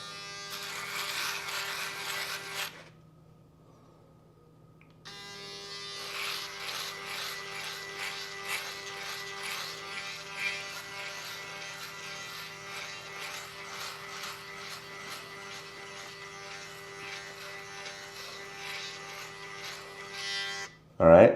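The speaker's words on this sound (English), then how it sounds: "I'm going to turn it on and we're going to give it a try and shave this part right here" A Laifen P3 electric shaver running with a steady high-pitched buzzing hum, briefly switched off and then on again, then buzzing while shaving with a faint rasping texture; it cuts out with a click at the end.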